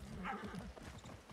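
A horse in Far Cry 6 gallops with quick clip-clop hoofbeats and a brief whinny, heard faintly and only for a moment.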